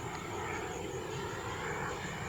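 A Flyfly Hobbies Viper 2.2 turbine model jet flies overhead, its engine giving a steady, continuous roaring whine that holds an even loudness throughout, with no voices.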